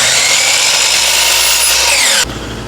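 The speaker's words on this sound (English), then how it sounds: "I'm cutting 2 down to 15 on the miter saw" A miter saw cuts through a wooden piece with a loud, continuous whine that stays close and dominant for about two seconds, then drops off abruptly as the blade spins down.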